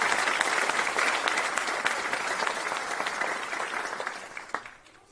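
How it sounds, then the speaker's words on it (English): An audience applauds at the Greensboro police academy graduation, a dense, sustained round of clapping from a large crowd indoors that gradually fades out over five seconds. "We'll give you one more round of applause for the Greensboro Fire Department."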